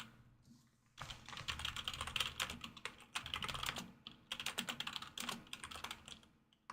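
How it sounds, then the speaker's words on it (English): Fast, uneven typing on a computer keyboard during an art class, with dense clicking key strikes in bursts separated by brief pauses, fairly close and alone. "I'm struggling with typing"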